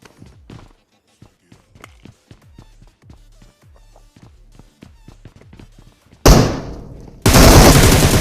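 In a battle royale video game, a string of sharp gunshots cracks out in quick bursts with short gaps between them, then gives way to a loud, dense blast of noise near the end.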